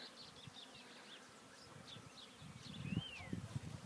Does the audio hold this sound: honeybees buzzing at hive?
yes